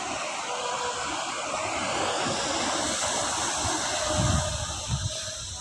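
Sea waves wash onto Sagareshwar beach in Vengurla on the Konkan coast, making a continuous broad roar of surf with a few heavier low thumps near the end.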